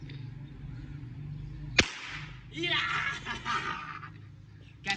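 A single sharp firecracker bang from a firecracker set off in a vehicle's final drive cuts through low background noise, followed by a burst of crackling and scattered commotion.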